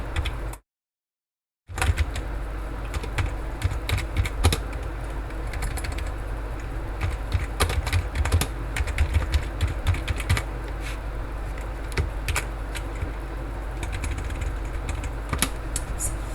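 Rapid, uneven clicking of keys on a computer keyboard while text is typed into Google Jamboard, close and continuous with brief pauses, no voices.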